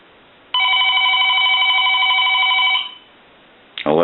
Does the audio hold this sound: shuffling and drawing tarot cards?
no